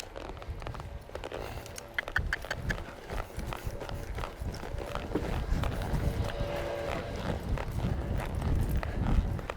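Hooves of a Baroque Pearl colt and a Dandy Warhols filly under riders, steady thudding footfalls on the ground, close and moderately loud, with rustling tack and a slowly rising background.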